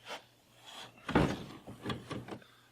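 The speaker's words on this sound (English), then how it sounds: "So now I'm going to unscrew the backing plate off of the wire cap" A backing plate is unscrewed from a through-hull wire cap by reaching through the rear hatch of a Hobie Pro Angler 12 kayak, giving a few close scraping, rubbing and plastic-twisting sounds in short bursts.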